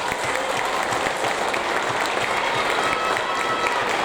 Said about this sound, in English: One more nice big round of applause.